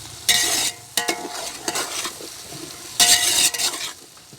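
Chopped vegetables and green beans sautéing in a pan for hariyali pulao, with a soft steady sizzle broken by several sharp bursts of a spatula stirring and scraping against the pan, up close with no talking.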